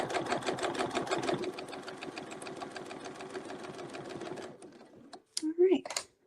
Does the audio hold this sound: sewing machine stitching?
yes